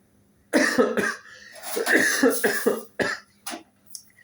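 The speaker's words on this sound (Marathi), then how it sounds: "सॉरी मित्रांनो, खोकला आलाय." A person coughs repeatedly at close range, a harsh fit of several rough coughs followed by a few shorter, weaker ones.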